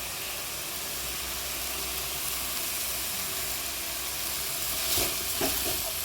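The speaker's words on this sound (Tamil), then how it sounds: "இந்த அளவுக்கு சூடில் வதக்கிங்க" Grated white pumpkin sautéing in a pan for halwa makes a soft, even sizzle and hiss, steady and moderately quiet, with a couple of light stirring scrapes near the end.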